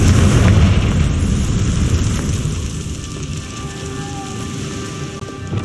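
A loud blast from the Confringo fire spell in Hogwarts Legacy opens the moment, its heavy boom fading into a crackling, rain-like decay with a faint tonal hum underneath.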